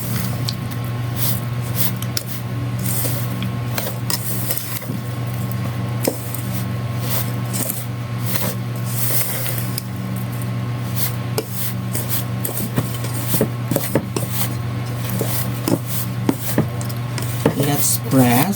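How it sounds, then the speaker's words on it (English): Macaroon batter mixed with condensed milk, giving a steady, close sticky rubbing and squishing with light scraping against the bowl over a constant low hum, with no pauses. "After adding the condensed milk, need to mix this first."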